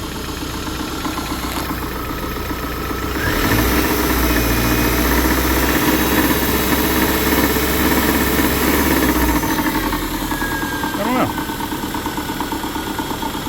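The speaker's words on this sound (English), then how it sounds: "that noise is definitely coming from the back side of this motor" A Subaru engine with a failing alternator idles with a rough, rhythmic knocking tick from the back side of the motor running steadily through it, close and loud.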